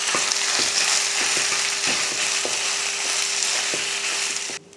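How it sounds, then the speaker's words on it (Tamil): Cooked rice is mixed with sesame powder, with regular rhythmic scraping and tapping strokes of a ladle against the pot under a constant hiss, close and steady before cutting off abruptly near the end. "எள்ளு பொடியை சேர்த்துடலாம் சேர்த்துட்டு கலந்து விட்டுடலாம்"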